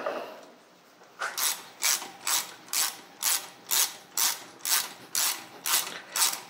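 A socket wrench ratchets on the input shaft of a John Deere 710 tractor, a steady series of about eleven crisp clicking strokes in even rhythm, close and clear with no talk.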